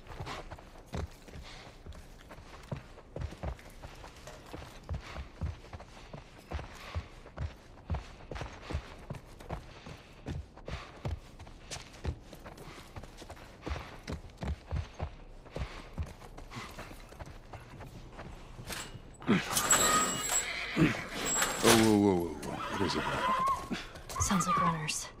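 A horse in The Last of Us Part I walks with steady, regular hoof clip-clops throughout, then a loud whinnying neigh bursts out near the end; soft speech can be heard at times.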